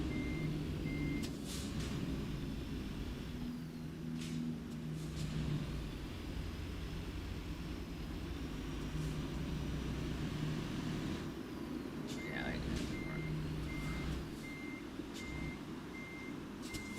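A truck reversing in The Sims 4, with steady evenly spaced warning beeps over a low engine rumble and faint background noise, moderately distant.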